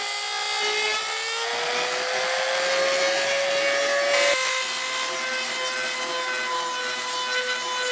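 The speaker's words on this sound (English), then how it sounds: "For that I'm going to be using a rotary tool with a grinding bit." Rotary tool with a grinding bit cutting a V groove into a crack in a car bumper, a steady high whine with a faint rasp as the bit works the plastic, its pitch creeping up before a brief dip and then holding steady.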